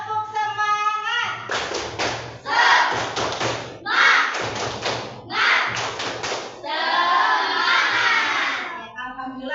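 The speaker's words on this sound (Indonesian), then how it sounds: "Tepuk semangat." A classroom of students performing a rhythmic spirit clap, several grouped bursts of clapping in a patterned beat alternating with chanted voices, close and lively.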